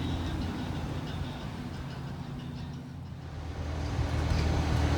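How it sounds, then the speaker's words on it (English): A high rail truck crosses the road beside the railroad tracks in Cowan, Tennessee, giving a steady low vehicle rumble that holds throughout and swells slightly toward the end, with no talk. "we get us a high rail truck going across the road here"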